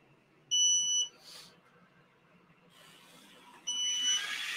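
A smoke alarm sounds during laser cutting of thick wood with a Creality Falcon 2 40W, giving two loud, steady high-pitched beeps about a second each, separated by a quieter gap with faint machine noise.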